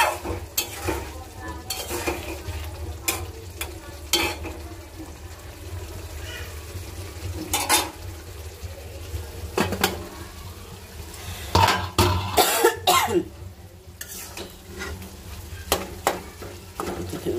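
Tomato and egg sauté in a pan with a continuous sizzle and frequent sharp scrapes and clinks of the spatula against the pan, close by, busier and louder toward the end.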